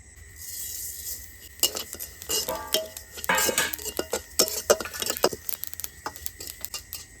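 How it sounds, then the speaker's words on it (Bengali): Sesame seeds dry-roasting and being stirred in a pan for a Bengali khir, a scraping, clinking stir with faint sizzle, bursts of spoon-on-pan taps and rattles coming in repeated strokes after a quiet start. "খিসে করার জন্য প্রথমে তিলগুলো ভেজে নেবো"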